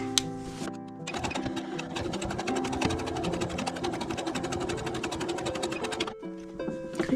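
A sewing machine stitches fabric for a small bag in a fast, even rattle of needle strokes that runs for about five seconds between short pauses, loud and close.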